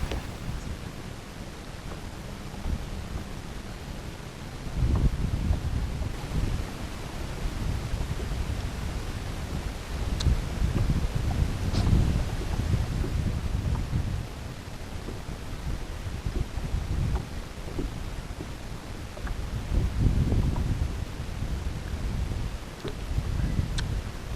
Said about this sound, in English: So you may have noticed the Lake Kurwongbah wind had kicked in